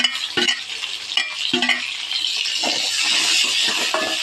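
Onions and tomato sizzle loudly in a hot pan while a spoon scrapes and stirs in a few sharp knocks, with a steady frying hiss that grows fuller toward the end.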